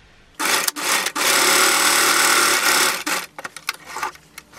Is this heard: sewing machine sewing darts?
yes